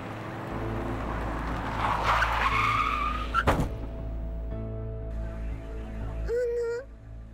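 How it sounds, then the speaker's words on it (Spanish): A car in the video game Little Misfortune skids with a rising tire screech and a sharp thump as it runs someone over, followed by a low engine hum and a brief whooshing game tone. "Oh, espérate, o me atropellaron."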